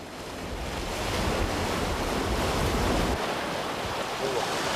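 Sea waves wash continuously at a coastal fishing spot on a rough day, a dense roaring surf mixed with wind noise on the microphone, steady and close throughout.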